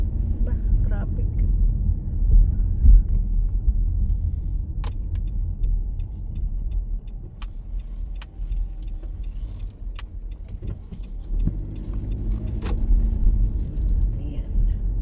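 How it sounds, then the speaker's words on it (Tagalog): Car driving in slow stop-and-go traffic near a shopping center, with a steady low engine and road rumble throughout, a few small clicks and rattles inside the cabin, and a person talking over it at times. "Traffic."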